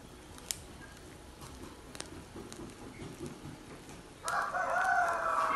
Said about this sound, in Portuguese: E o Sr. Galo dando uma boa tarde para vocês.